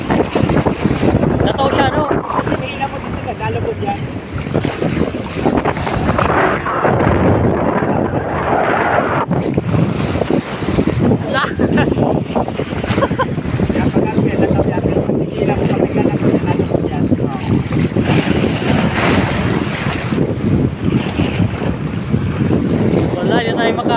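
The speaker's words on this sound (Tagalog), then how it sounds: "grabe yung alon" Rough sea waves slap and wash against a moving boat on a fishing trip amid heavy wind buffeting the microphone, with voices talking intermittently over the noise.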